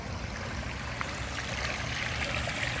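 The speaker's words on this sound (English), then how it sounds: "Cool little waterfall." A small waterfall trickles into a backyard pool at a Lake Havasu home, a steady, soft splashing wash with no voices.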